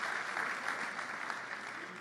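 A church congregation applauds in a dense, steady wash of clapping that stays even and moderately loud throughout, with a faint murmur of voices underneath.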